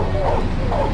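Guard dogs bark in the video game Mafia, their yelps blended into a dense, continuous wash of loud game noise.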